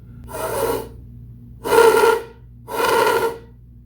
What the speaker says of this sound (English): If you just blow into the straw, you'll probably get a sound like this.